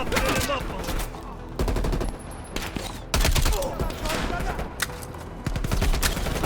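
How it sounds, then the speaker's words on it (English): Rapid bursts of automatic gunfire from a gun in Call of Duty Black Ops Cold War, loud and repeated in several volleys with brief gaps between them. "I just soften him up a little with bullets from a gun"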